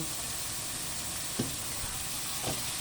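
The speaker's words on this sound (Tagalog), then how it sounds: "Mag-add tayo ng vegetable oil para magisa na natin ang ating bawang, sibuyas, at kamatis." Garlic, onion and tomato sauté in vegetable oil in a pan, giving a steady close sizzle and hiss with a couple of faint stirring clicks and no talking.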